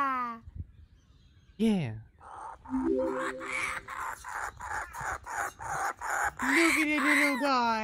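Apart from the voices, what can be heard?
baby kookaburra calling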